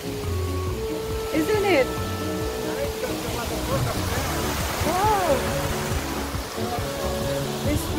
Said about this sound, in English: It's doing waterfall as well.